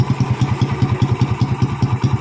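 A motorcycle engine with a PE 24 carburetor idles with a rapid, even putter, each pulse distinct and close by, no voices present.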